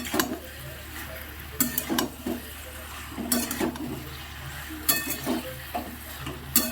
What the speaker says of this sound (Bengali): ভালো করে এটা আমি মিশিয়ে নেব।